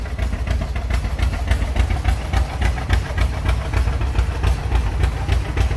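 A 1969 International Model 1456 antique tractor idles at a parade, its engine a steady, loud low rumble with a regular chugging pulse throughout, no talk heard.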